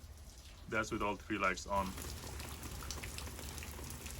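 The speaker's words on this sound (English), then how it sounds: "It's raining outside right now and it's dark." Steady rain falls outside at night, a soft continuous hiss and patter that carries on under a man's brief speech and stays even after he stops.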